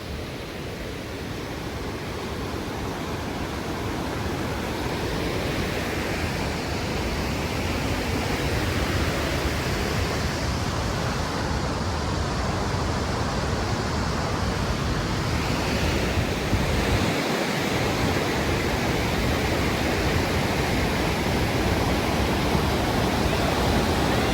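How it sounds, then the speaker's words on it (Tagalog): Bow Falls in Banff, Alberta, a waterfall on a white-water river, makes a continuous, dense, loud rushing roar that holds steady throughout with no voices. "This is what they call Bow Falls here in Banff,"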